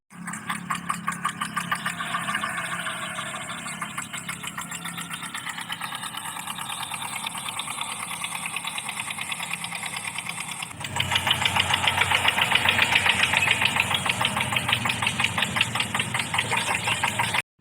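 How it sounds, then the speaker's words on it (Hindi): A tractor engine running in a village, a steady close knocking diesel chug with a louder, rougher stretch near the end, no talk. "अपने चाचा के साथ ट्रैक्टर पे घूम रही है।"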